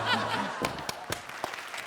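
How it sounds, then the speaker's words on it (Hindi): A comedy show audience breaks into brief clapping and chuckling, scattered claps close by after a short voice at the start, fading within a couple of seconds. "एक मिनट, ये कोई कॉमेडी सर्कस का स्टेज नहीं है जो आप खड़े होकर तालियां बजाने लग गए।"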